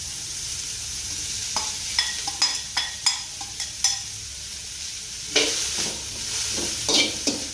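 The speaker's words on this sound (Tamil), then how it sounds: "cabbage ஆட் பண்ணிட்டு அந்த கொஞ்சம் அதை வந்து ஃப்ரை நல்லா குக் பண்ண விடுங்க" Cabbage stir-fries in a pan with onion for vegetable fried rice: a soft, steady sizzle broken by repeated close scrapes and clacks of the spatula, in uneven bursts.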